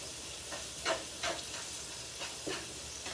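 Sweet potato hash with cumin, red pepper flakes and salt being stirred in a frying pan, a steady low sizzle broken by several scraping stir strokes at uneven intervals, close and fairly quiet.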